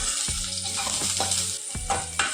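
Dried red chillies and shallots sizzle steadily in hot oil in a pan, with a few distinct scraping stirs of a spoon across the bottom, close and alone.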